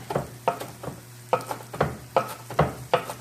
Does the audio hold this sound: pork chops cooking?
yes